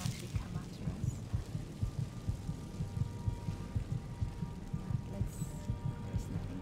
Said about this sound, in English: The heart threshold and the heartbeat is quite annoying.